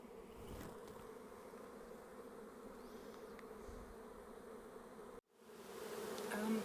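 A honey bee swarm buzzes steadily and close, a dense sustained drone that breaks off in a brief silent gap near the end, then returns louder.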